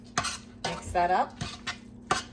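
Onions being mixed into browned ground meat and its fat in a pot for a healthy chili, giving a few separate clanks and scrapes of a utensil against the pot, close and fairly quiet.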